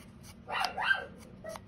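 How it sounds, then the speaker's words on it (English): A dog barks a few times at moderate distance in a quiet home at bedtime, a short burst of yips and barks followed by one more brief bark. "You don't have to bark."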